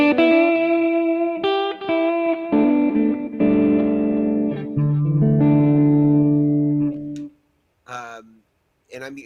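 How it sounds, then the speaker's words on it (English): Electric guitar chords and notes drenched in reverb and delay from a collider pedal, sustained and shimmering, then trailing echoes of short phrases after the playing stops. "I got a little bit of collider for my reverb and delay there"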